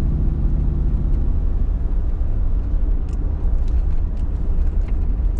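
A 2006 Chevrolet Tahoe Z71 engine pulls toward 4,000 RPM while driving, a loud, steady low rumble and road whir heard from inside the cabin, with a few faint clicks near the end.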